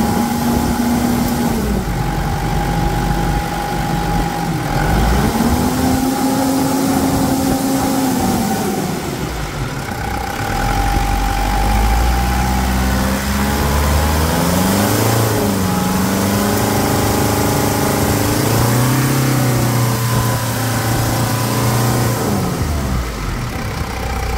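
A Mitsubishi Pajero Dakar with the 3.2-litre 4M41 diesel engine revs loudly and up close, rising and falling through several throttle blips over a steady idle, with no voices.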